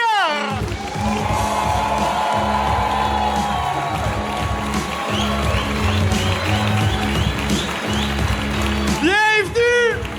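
A television studio audience at a French-language gong show roars with cheers, whoops and applause for the two hosts, a dense, continuous crowd noise with a voice calling out over it and rising shouts at the end.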